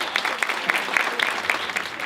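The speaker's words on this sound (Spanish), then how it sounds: "Señoras y señores, el aplauso para recibir a la doctora Claudia Romero." An audience at an education conference applauds to welcome a speaker to the stage, steady scattered clapping from a fair-sized crowd lasting the whole moment with no talk over it.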